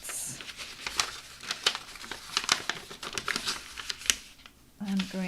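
Blade scoring horizontal lines into paper for an Andes Mints quarter slider box, giving crisp scratchy crinkling strokes in quick irregular bursts, close and moderately loud.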